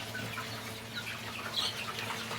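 Backyard White Leghorn and Rhode Island chickens cluck softly at a distance over a steady low background hum, with a few brief higher calls standing out.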